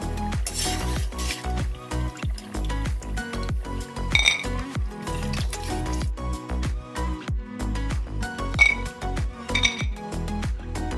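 Fried lentil dumplings lifted from oil onto a plate with a slotted spoon, making repeated close metallic scrapes and clinks in an irregular rhythm over a low sizzle.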